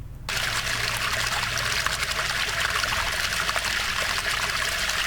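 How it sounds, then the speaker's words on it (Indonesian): River water flowing at Ratu Boko palace, a steady broadband trickling and splashing rush that stays loud and close throughout, with no voices over it. "Ini adalah sungai-sungai yang mengalir di Istana Ratu Boko."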